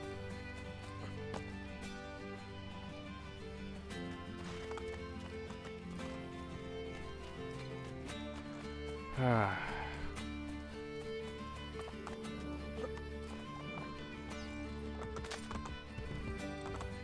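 Horse hooves clopping steadily in the video game Assassin's Creed Brotherhood, with a sharp whinny partway through, all under a continuous musical score.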